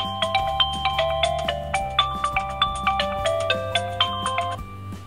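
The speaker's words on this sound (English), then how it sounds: "Every time I get a call from Joe Blow, the Mi Mix custom ringtone will play" A custom ringtone plays from a Xiaomi Mi Mix phone as a bright, plucky melody of quick repeated notes over a soft low accompaniment, clear and alone for about five seconds.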